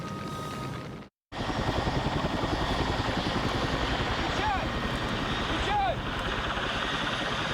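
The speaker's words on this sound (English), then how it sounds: "his fleet of 80 helicopters are sent from Moscow to fight the blaze and put the fire out" A helicopter's steady rotor thrum fills the air, loud and continuous, briefly cut off near the start, with faint whistling chirps drifting over it, from a fleet fighting the Chernobyl disaster fire.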